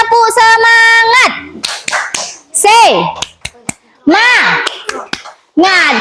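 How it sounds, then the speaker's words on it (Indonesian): A Year 4 primary school class chants in unison with sharp, rhythmic claps, voices rising and falling in sung phrases with loud bursts of clapping between them, close and energetic. "Kita kasih tepuk semangat."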